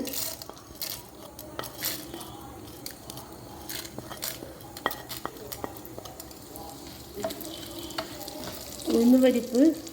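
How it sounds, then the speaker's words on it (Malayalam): Urad dal frying in hot oil in a pan makes a faint, soft crackle, with scattered light clicks and scrapes from a stirring utensil and a louder rustle near the end. "കുറച്ച് എണ്ണ അതിലേക്ക് ഒഴിച്ചിട്ട് എണ്ണ ചൂടാകുമ്പോൾ അതിലേക്ക് ഉഴുന്നുപരിപ്പ്"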